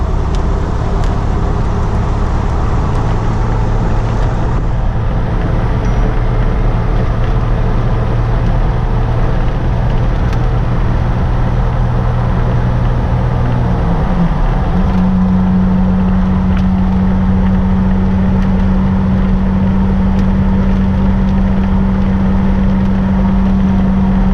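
The engine of a Jeep TJ Wrangler fitted with 4.10 gears drones loudly and steadily from inside the cab, with a pitch shift midway as it shifts and then holds a higher, sustained tone.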